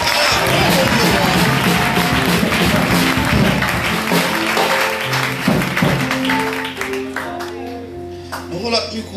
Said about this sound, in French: On va applaudir le Seigneur pour ça.